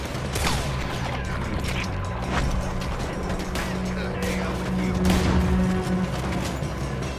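Gunfire erupts in a Red Dead Redemption 2 shootout, dense bursts and booms over a rumbling game mix, with characters shouting under the shots throughout.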